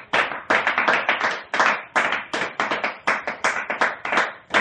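A congregation claps together in acclaim of Jesus during a worship gathering, with steady rhythmic hand claps in quick succession, close and loud, continuing throughout without a break.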